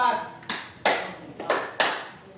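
A clapping game led by a teacher, with four sharp hand claps in a loose rhythm, the third and fourth quickly following earlier ones, each ringing briefly in a reverberant room.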